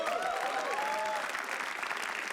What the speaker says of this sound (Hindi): तो एक बार पवित्रा के लिए तालियां हो जाए फिर